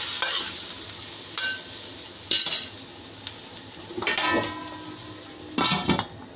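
Tofu and minced meat stir-fried in a pan, with repeated sizzling bursts as a utensil scrapes and clinks against the metal, a steady frying hiss underneath and no voices.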